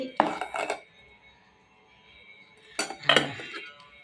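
Rice is served onto a metal plate at home, giving two short clusters of clinking and scraping from a spoon against dishes, close and bright, with a quiet pause between them.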